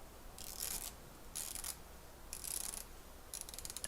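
The timing bezel of a Breitling Steelfish A17390 watch is turned, giving four short, faint bursts of crisp ratcheting clicks spaced about a second apart, close-up and quiet with no talking.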